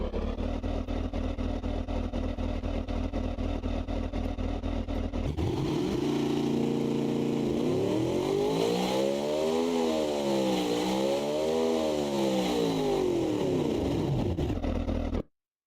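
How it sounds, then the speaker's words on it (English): A synthetic car engine drones steadily, then revs up and down repeatedly in rising and falling sweeps before cutting off abruptly. "that's one last sound of the engine. That is awful."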